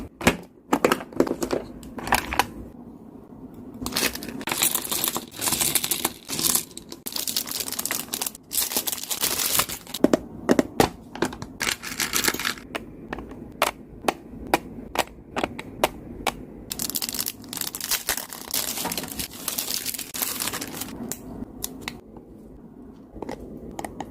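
Packaging of a Hello Kitty stationery set crinkles and rustles close up during unboxing, coming in bursts of crackly handling sounds with brief pauses and sharp clicks and snaps between them, with no talking.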